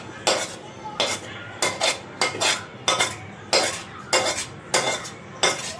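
Spoon stirring jaggery paste into roasted sesame seeds in a pan for til laddu, a steady rhythm of close scraping and clinking strokes roughly every half second.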